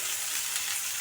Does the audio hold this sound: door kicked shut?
no